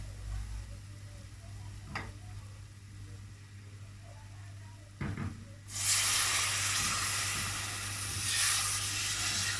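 Milk is poured into a pan of sizzling butter-roasted flour: a quiet hum and a couple of soft clicks, then a sudden loud, steady hiss and sizzle that fills the rest of the clip.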